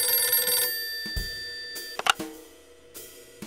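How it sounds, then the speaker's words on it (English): An old-fashioned telephone bell rings in a radio drama, a bright jangling ring that cuts off, followed by a few clicks and clunks as the receiver is handled. "I was just finishing up when the phone rang."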